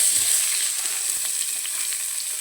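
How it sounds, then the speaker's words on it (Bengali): Onions fry in hot oil with cumin in a pan for a meat curry, a steady, close hiss and sizzle with faint stirring clicks underneath. "তো এর মধ্যে পেঁয়াজ আছে, অল্প করে পেঁয়াজ দিয়ে দেবো।"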